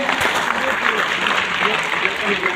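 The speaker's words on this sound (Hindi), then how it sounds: "एक बार जोरदार तालियां चाहूंगा इस प्रोडक्ट के लिए" An audience applauds a health product at an Indian promotional gathering, a short burst of clapping with a voice faintly present underneath.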